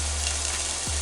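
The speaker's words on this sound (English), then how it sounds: "But we want this to fry up real nice." Extra firm tofu frying in a pan gives off a steady, even sizzle that lasts throughout, close and moderately loud, with no voices over it.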